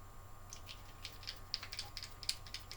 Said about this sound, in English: Like with most of these Savox servos, they tend to be a bit more on the noisier side